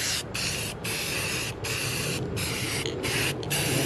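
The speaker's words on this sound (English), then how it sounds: "Here's some Rust-Oleum. Not that I'm promoting a brand. It's a fast dry enamel. We'll go ahead and just give it a quick blast of paint." A can of Rust-Oleum fast dry enamel spray paint hisses close up in about five steady blasts with short pauses between them, coating a part for a battery conversion on an M923A2 military truck.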